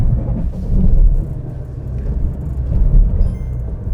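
A medium SUV in off-road mode revs while climbing under constant throttle, giving a loud, steady low rumble that swells and falls in waves, with no talk.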